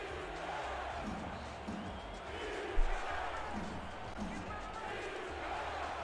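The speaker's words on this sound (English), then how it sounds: "Crowd here in Oklahoma City on their feet." Football stadium crowd in Oklahoma City on their feet, a broad steady roar with swelling cheers and one brief thump near the middle, with commentary voices over it.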